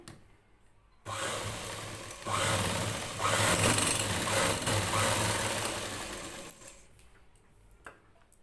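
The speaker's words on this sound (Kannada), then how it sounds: "ಇಲ್ಲಿ ಮತ್ತೊಂದು ಸ್ಟಿಚ್ ಮಾಡಬೇಕು, ಇದರ ಎರಡರ ಮಧ್ಯದಲ್ಲಿ ಕಾಜಾ ಮಾಡ್ಕೊಳ್ಳೋಕ್ಕೆ" Electric sewing machine stitching a plain blouse, running steadily for about five seconds at close range with a brief pause partway, then slowing and stopping, with quiet room noise before and after.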